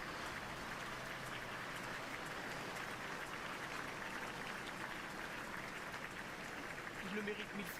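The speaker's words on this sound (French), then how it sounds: "Yeah, people are clapping a lot for the firefighters." A crowd at a French 14 July military parade applauds passing firefighters with steady, distant clapping that runs throughout beneath continuous talk.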